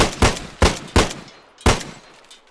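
Four powerful Desert Eagle pistol shots ring out in the video game DayZ, each a sharp loud crack with a decaying tail; three come in quick succession, then one more after a short pause.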